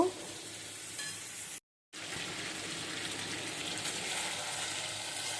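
Country chicken and potato pieces sautéed in a pan, a faint, even frying hiss with light stirring that cuts out briefly near the start before resuming steadily; no talking.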